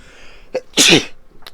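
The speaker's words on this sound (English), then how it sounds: "I just sneezed just now." A single loud sneeze, preceded by a short sharp inhale and followed by a brief snuffle, close to the listener.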